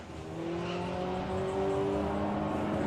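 A drag racing car launches down the strip at Santa Pod during Sportsman Nationals 2024 qualifying, its tyres spinning off the line, giving a steady, droning engine roar that holds and swells slightly throughout.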